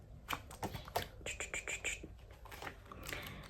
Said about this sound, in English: We've got some cheeky birds in the background, that's for sure.